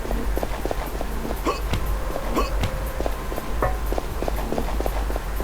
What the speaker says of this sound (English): footstep sounds. I added those to my mutator there.